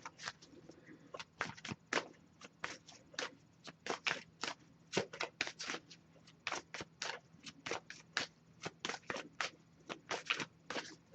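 Tarot cards being shuffled by hand, quiet close crisp riffling snaps that come in uneven bursts over a faint low hum.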